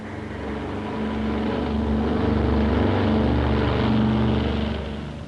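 A propeller transport plane flies across the Himalayas with a loud, steady engine drone that swells in the middle and eases slightly at the end, with no voices.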